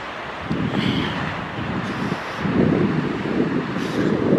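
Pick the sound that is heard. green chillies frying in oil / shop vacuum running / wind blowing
wind blowing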